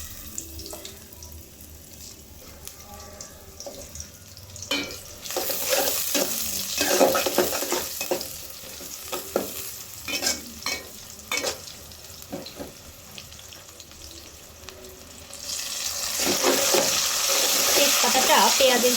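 Sliced onions and a bay leaf fry in plenty of oil in a pan for a duck dish, crackling and sizzling under repeated scraping stirs, with a brief running-water sound near the start and louder frying toward the end.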